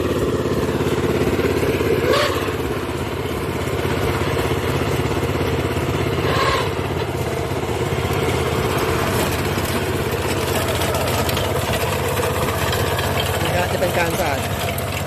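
A Mitsubishi 7 hp mini tractor engine runs steadily with a rough, chugging idle that stays loud and close throughout, with someone talking over it.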